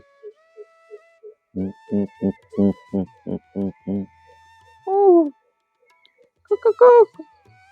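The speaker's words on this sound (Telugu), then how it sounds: "పక్షులన్నీ మేల్కుంటున్నాయి" Birds waking in the morning call one after another: a series of short low hoots repeating in a steady rhythm, then a longer warbling call and a brief burst of calls at the end, fairly close and clear with no talk.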